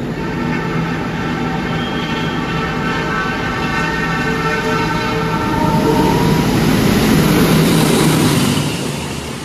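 A passenger train, the Gajahwong, roars past a platform at speed, a loud steady rushing rumble with tonal whine, swelling nearer toward the end before easing.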